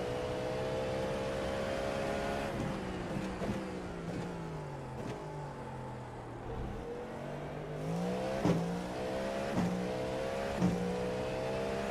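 A race car engine in the iRacing sim, revving up and down through gear changes on track, with rising and falling tones and brief shift clicks, steady and alone.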